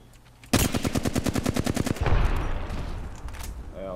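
Rapid automatic gunfire rattles out in a video game, a fast burst of about fifteen evenly spaced loud shots followed by a heavier blast and a fading rumble, close and dominant.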